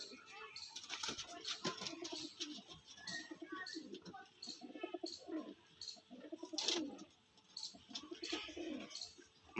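Pigeons kept for sale in Uluberia coo repeatedly in soft, low rolling calls, several birds close by, with faint chirps mixed in and no talking.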